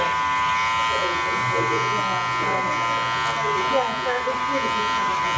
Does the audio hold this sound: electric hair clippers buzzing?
yes